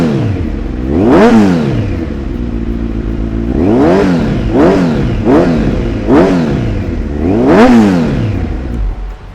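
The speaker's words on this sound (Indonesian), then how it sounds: "Gue akan kasih kalian dengar gimana suara dari knalpot M4." A Kawasaki Z1000 motorcycle with an M4 titanium exhaust revs up close and loud in five sharp throttle blips, each rising and falling back to a rough idle between them.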